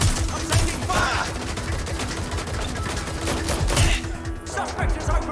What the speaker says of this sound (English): Suspect has opened fire! I'm taking fire!